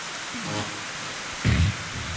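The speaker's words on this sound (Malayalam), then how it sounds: "നല്ല മഴയാണ്" Heavy rain falls in a steady broadband wash, with a low, brief rumble rising partway through over the constant downpour.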